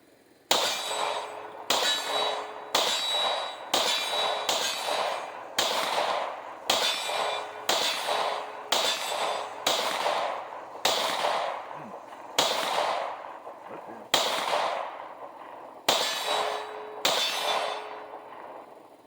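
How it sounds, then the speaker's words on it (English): A Smith & Wesson M&P 2.0 10mm pistol fires about fifteen loud, sharp shots outdoors at a fairly steady pace, each crack followed by a short ringing tail. "I'll get Manning shooting and we'll show some footage of him."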